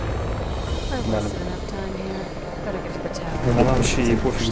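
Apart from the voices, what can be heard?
helicopter in the video game Resident Evil 6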